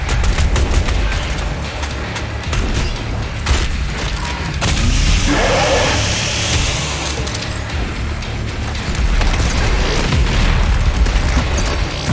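Rocket explosions and booming blasts strike the player in the first-person shooter Doom Eternal, Mission 1 on Nightmare difficulty, a dense, loud continuous barrage of rumbling impacts and gunfire mixed with game effects, with no talking.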